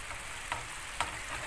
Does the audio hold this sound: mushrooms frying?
yes